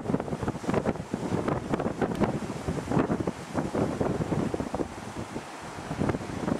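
Strong wind gusts bending spruce trees, heard as buffeting roars that swell and fade in irregular bursts, with heavy wind rumble on the microphone and no speech.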